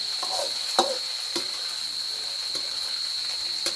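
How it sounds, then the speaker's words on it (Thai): Garlic, chili, galangal and lemongrass stir-frying in a hot pan for a crab basil stir-fry: a steady bright sizzle with a few sharp spatula clanks against the pan. "ผัดให้หอมก่อน"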